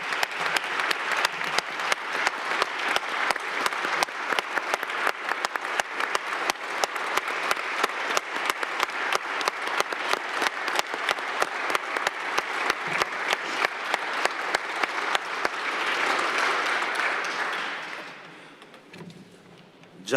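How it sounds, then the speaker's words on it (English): Sustained applause fills a city council chamber, steady dense clapping from the assembled crowd lasting nearly twenty seconds before fading out near the end. "If we could, let's give a round of applause to Alan."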